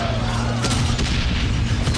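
Booming cannon blasts from the game Valiant Hearts: The Great War thud repeatedly over a dense, rumbling battle background, loud and continuous.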